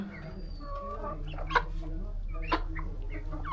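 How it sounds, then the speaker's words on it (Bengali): Brahma chickens cluck softly and steadily nearby, with two sharper, louder calls cutting through the low murmur of the flock. "খুবই সুন্দর জাতের মুরগি বাহুমা একদম পা পর্যন্ত লুমে ভরা"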